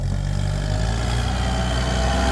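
A Kubota M108S tractor engine rumbles steadily at a low, even idle, up close and continuous with no pauses, as the tractor works on clay soil.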